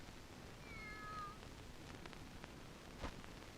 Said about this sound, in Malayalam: ഒന്നുമില്ല, ഒരു പൂച്ച.